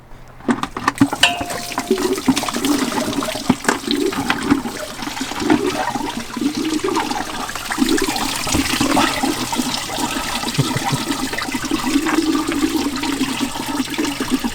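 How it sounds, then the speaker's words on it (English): Coolant pours from the bottom radiator hose of a Reliant into a bucket, a steady, fairly loud splashing gush of liquid that runs continuously throughout without any talk over it. "I'm taking the bottom hose off, because the thought is that that will be the best place to drain it from"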